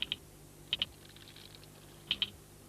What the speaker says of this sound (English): the soldiers sound their clicking alarm by beating their heads on the ground